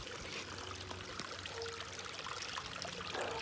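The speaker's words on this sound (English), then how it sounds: "So you got a nice little stream right there." Water trickles and pours steadily through a small stream in a constructed wetland bog filter for a koi pond, a continuous close splashing wash with no voices.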